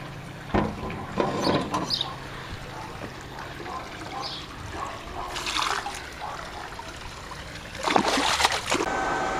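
Polyquat algaecide is poured into a swimming pool, heard as soft trickling and splashing liquid that comes in short bursts over a low background hiss, with a louder pour near the end.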